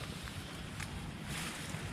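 Strong wind roars steadily outdoors, a dense, loud rush buffeting the microphone with no break across the whole stretch.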